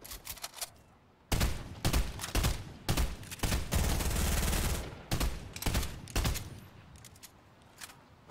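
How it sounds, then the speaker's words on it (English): Pistol gunfire in a video game, loud clusters of rapid shots in several bursts with short gaps, close and alone. "Getting shot, pistol."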